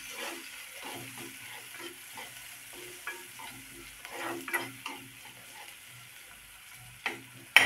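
Onion and tomato fry in a pan with a soft, fairly quiet sizzle, broken by intermittent scraping stirs and light clicks of a utensil, with no talking.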